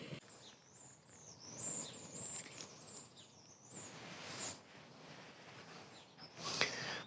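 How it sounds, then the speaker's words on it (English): Faint, high bird chirps and tweets scattered across a quiet outdoor background, with a brief brighter call near the end. "just the sound of nature, birds tweeting"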